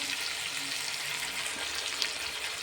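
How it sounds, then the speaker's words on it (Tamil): Brinjal sautéing with rock salt in a pan, a steady close sizzle and crackle of frying with light stirring throughout and no talking. "கொஞ்சம் கல்லுப்பு சேர்த்து வதக்கும் போது ரொம்ப ஈஸியாக வதங்கிடும்."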